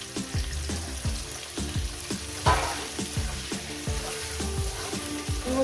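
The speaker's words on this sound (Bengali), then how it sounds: "আলুগুলো দিয়ে দিলাম আর তার সঙ্গে সঙ্গে পেঁয়াজগুলো আমি দিয়ে দিলাম যাতে একসঙ্গে সুন্দর করে সব কিছু ভাজা হয়" Potatoes and onions frying together in a hot pan with oil for a fish curry, a steady close sizzle broken by repeated rhythmic scrapes and stirs of a spatula, with no talking.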